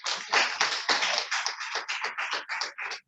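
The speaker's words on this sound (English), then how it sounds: "St. Paul, please can we give them a round of applause?" An indoor audience at a parents' and teachers' training day applauds a school, giving about three seconds of dense, even clapping. It is close and fairly loud, and no one speaks.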